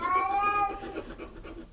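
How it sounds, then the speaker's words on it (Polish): A house cat gives a short, clear meow indoors as it is shooed away, the cry fading after under a second into quiet shuffling and light rustling. "Tutaj zgonię tylko kota."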